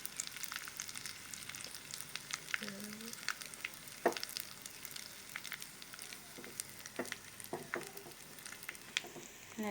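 Oil tempering with mustard seeds and curry leaves in a hot pan gives a soft, steady sizzle with scattered small pops and crackles, close but quiet.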